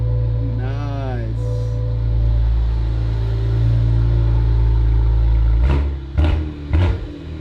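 A 2023 Cadillac CT4-V Blackwing idles with a heavy, steady exhaust rumble in loud mode, close and constant, then barks through three sharp revs near the end. A voice is briefly heard over the engine early on.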